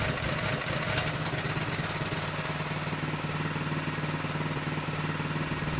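A 20-tonne petrol log splitter's engine idles steadily just after starting with the choke moved to run, giving a continuous even drone with a low hum throughout and no talk.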